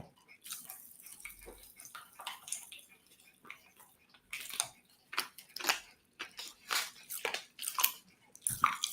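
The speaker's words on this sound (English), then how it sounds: "Oh, no wonder why they're called Pop Rocks." Pop Rocks candy crackling and popping inside a mouth, a run of quick, close, irregular crisp snaps that thicken in the second half, with faint mouth noises and no talk.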